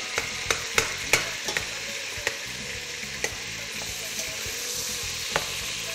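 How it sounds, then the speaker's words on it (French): Oxtail meat browning in a pan, with a steady sizzle and scattered sharp pops and spatters, moderately close. "Donc là, on fait colorer notre viande."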